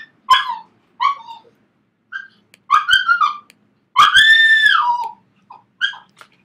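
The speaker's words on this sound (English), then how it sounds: "it's just my dog Bambi. It's really noisy" A pet dog giving a run of high, squealing yelps and whining barks indoors, several separate bursts with one long drawn-out cry in the middle, close and loud against silence.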